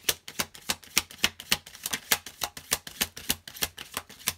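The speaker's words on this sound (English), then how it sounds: "Let me get two more cards." Tarot cards are drawn and shuffled for a card reading, giving a quick series of crisp, evenly spaced snapping flicks close by, with no talk.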